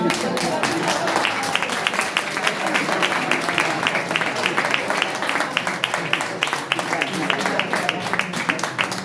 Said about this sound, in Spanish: igual necesitas un aplauso